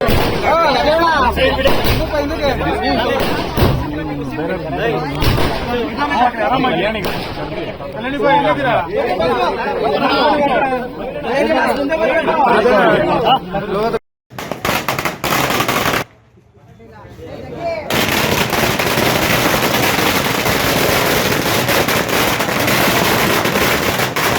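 Firecrackers burst in dense, rapid volleys at a village panchayat celebration, loud crackling chains with crowd chatter mixed in, a brief lull midway, then the bursts resume.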